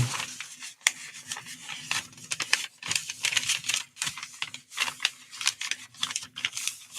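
Paper being folded for a craft project, with a rapid series of close, crisp crinkles, rubs and creases that come and go in quick bursts.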